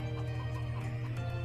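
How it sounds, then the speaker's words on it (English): A chicken in the video game DeathSpank gives a brief, steady clucking call over a droning background tone, lasting just over a second. "Stupid chicken!"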